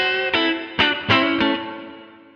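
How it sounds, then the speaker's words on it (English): Electric guitar played through a plate reverb on a Line 6 POD Express, four bright strummed chords spaced about a third of a second apart, each ringing into a long shimmering tail that fades away. "I really like the plate reverb actually on about halfway."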